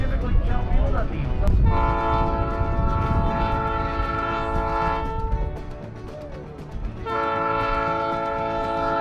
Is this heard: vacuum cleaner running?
no